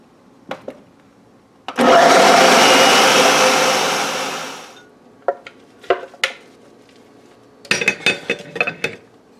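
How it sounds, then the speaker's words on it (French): A food processor whirs loudly for about three seconds blending chickpeas for a vegan mushroom tourtière, then winds down, followed by scattered clinks and knocks of kitchen utensils and dishes. "on va passer les pois chiches au robot culinaire"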